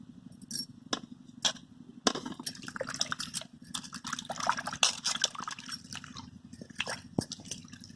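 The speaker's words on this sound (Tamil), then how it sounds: "தக்காளி கழுவி எடுத்து வச்சுக்கலாம்." Tomatoes being washed in water: close, intermittent splashes, drips and light knocks against a vessel, scattered irregularly over a soft background, with no talking.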